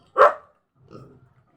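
A single loud, sharp guard dog bark up close near a pig pen, followed by a softer, lower rumbling huff or grunt trailing off.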